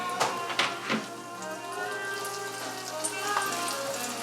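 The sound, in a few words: shrimp sandwich filling frying in hot oil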